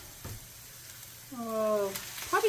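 Keto egg roll in a bowl mixture cooking in a pan, a soft sizzle with a stirring scrape, a voice speaking briefly partway through.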